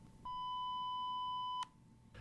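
A single clean electronic beep marks a break between segments of an aviation podcast, sounding steadily for just over a second against faint background hiss.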